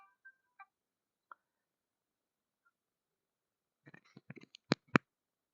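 A telephone rings in during a science lesson, heard as a few faint beeps and tones followed by a quick series of sharper clicks and two louder tones, with no talk over it.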